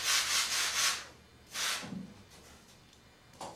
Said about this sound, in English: I'll sand them on my sanding block